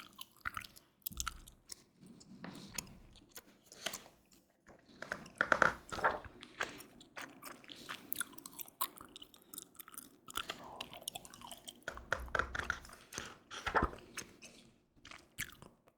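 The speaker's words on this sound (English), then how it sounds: "Eat this last piece of gum." Close, wet gum chewing goes on throughout, with soft smacking and squishing bursts at an uneven pace and no talking.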